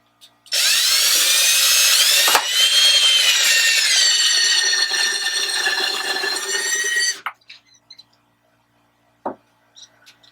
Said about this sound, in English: I'm going to try to drill this straight and true